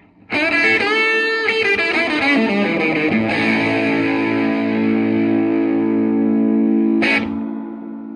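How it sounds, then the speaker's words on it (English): A heavily distorted electric guitar plays chords through a Mojoverb reverb unit, drenched in reverb, notes sustaining and washing together, with a final struck chord ringing out. "add discernible reverb to heavily distorted signals"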